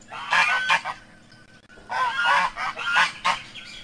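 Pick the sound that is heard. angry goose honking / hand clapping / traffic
angry goose honking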